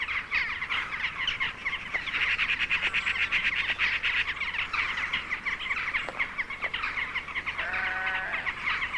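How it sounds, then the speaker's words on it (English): Crows, rooks, jackdaws and a few magpies gather at a feeding spot in Wales, their harsh caws and chattering calls overlapping in a dense, fairly close chorus that runs throughout. "Crows, rooks and jackdaws flock in for the feast, with a few magpies tagging along."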